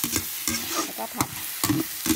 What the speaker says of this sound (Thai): แล้วก็ผัด